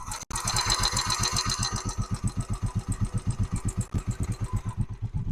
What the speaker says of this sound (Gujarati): તમને રેસ આપીને પણ ઇન્જિનનો અવાજ સંભળાવી દઈશ